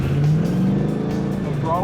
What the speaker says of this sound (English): We're going to apply throttle, countersteer, catch the drift.